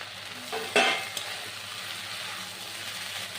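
Water spinach being stirred in a pan with shrimp, fried eggplant and potato, a steady low sizzle with a couple of spatula scrapes near the start.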